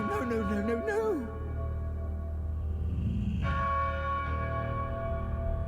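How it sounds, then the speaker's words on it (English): A loud, ominous bell tone rings out in a game, with sustained ringing harmonics that hold and change pitch partway through, accompanied by a low steady drone. "Ominous, but I also like loud bell noises."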